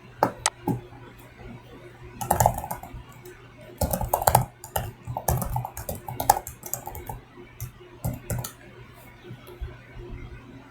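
Typing on a computer keyboard, a quick run of close key clicks arriving in irregular bursts with short pauses, over a faint steady room hum and no talk.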